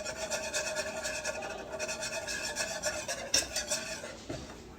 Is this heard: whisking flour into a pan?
yes